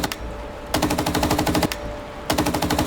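Bursts of rapid machine gun fire from an M1 Abrams tank in the PC game Gunner Heat, three sustained rattling volleys separated by short pauses, loud and close with no voices.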